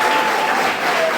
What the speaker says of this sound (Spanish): Otro aplauso para el Señor Jesucristo